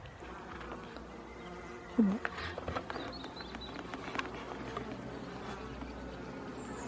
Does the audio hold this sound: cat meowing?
no